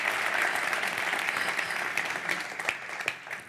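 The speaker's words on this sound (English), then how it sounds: "Now you can give them a round of applause" An audience at a hydrogen industry event applauds four panel speakers, a sustained, dense patter of clapping that thins slightly toward the end.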